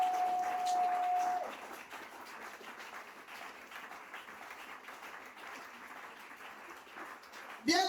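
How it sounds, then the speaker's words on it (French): A church congregation applauds and cheers for Jesus during worship, a broad wash of clapping and crowd noise that stays fairly steady, with a sustained tone early on. "Est-ce que tu peux acclamer Jésus?"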